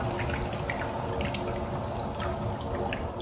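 Water draining from an electric water heater valve through a hose, a steady splashing trickle with scattered drips, continuous and close.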